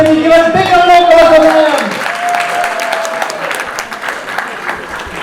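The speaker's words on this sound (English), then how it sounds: "Can you give us a big round of applause" A crowd at a graduation event breaks into loud, sustained applause, dense clapping that fades slightly over several seconds, with a voice speaking over the opening moments.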